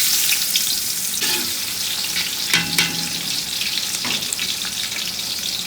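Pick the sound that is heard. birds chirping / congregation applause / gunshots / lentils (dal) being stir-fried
lentils (dal) being stir-fried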